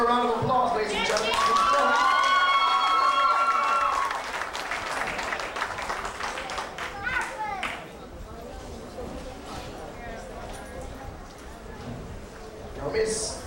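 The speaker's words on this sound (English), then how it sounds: "Give her a round of applause, ladies and gentlemen." Applause and cheering from a pageant audience for a second runner-up, loud at first and then thinning into scattered clapping and chatter, with a voice speaking over it.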